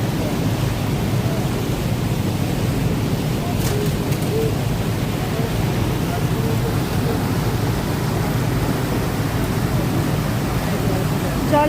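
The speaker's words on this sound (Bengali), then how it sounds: "জলের স্রোতটা তোমাদের দেখিয়ে দিচ্ছি বন্ধুরা" Ganges river current at the Varanasi ghats rushes as a steady, broad wash of flowing water, constant and fairly loud throughout, with faint background noises and no talk.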